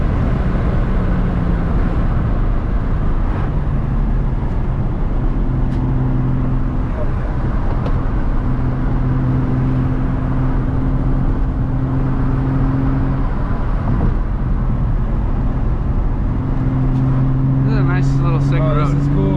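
A bone-stock Nissan 350Z driven hard on twisty roads, its engine droning loud and steady with rising and falling harmonic tones as it revs through bends, plus a brief whirring burst near the end.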